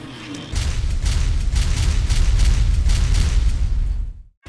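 A continuous loud roar of rumbling blasts with repeated booming bursts, sustained for several seconds before cutting off abruptly.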